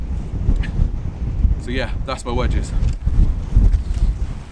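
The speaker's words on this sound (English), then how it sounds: "Excuse the wind because it's really, really windy." Strong wind rumbles across a microphone outdoors in blustery conditions, low buffeting gusts running throughout while someone talks over them.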